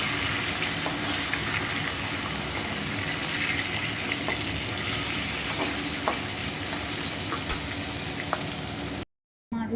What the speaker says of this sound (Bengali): তেল দিয়ে দিই মাছ ভাজার জন্য তেল গরম হয়ে গেছে